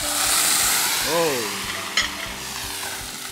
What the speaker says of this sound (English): while the mushroom is sautéing